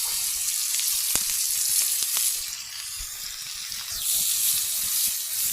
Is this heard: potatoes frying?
yes